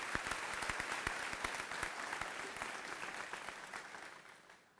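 A commencement ceremony audience claps in sustained applause, a dense wash of many hands with a few sharper near claps, fading away at the end.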